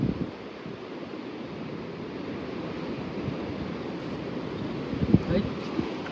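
Strong wind gusts outdoors on a trip around Gorkha, Nepal, make a continuous low roar buffeting the microphone, with faint muffled voices and a brief louder gust near the end.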